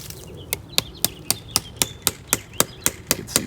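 A hammer taps a metal spout into a backyard maple tree with about a dozen sharp, evenly spaced knocks, with faint birdsong in the background.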